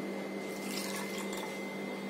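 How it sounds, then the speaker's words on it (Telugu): Water poured from a cup onto carrots in a pan runs in a short, continuous splashing stream, close and fairly quiet. "అదే కప్పుతో వాటర్ పోస్తున్నాను."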